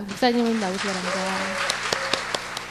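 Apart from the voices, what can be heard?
church congregation applause welcoming the pastor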